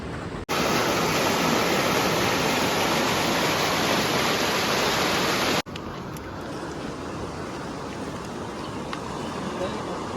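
Flooded river running high after upstream rain, a loud steady broadband rush of fast water filling the whole clip, close by, with a brief cut partway through and no clear talk.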